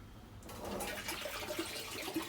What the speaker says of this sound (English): Sorry, just knock the water pipe out.